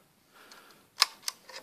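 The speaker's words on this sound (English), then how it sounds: "Now we're going to trip that shutter again because it's still on time." A Speed Graphic camera shutter is tripped on its time setting: a faint mechanical click first, then a sharp close snap and a second crisp click, with a softer click trailing after, all near and alone.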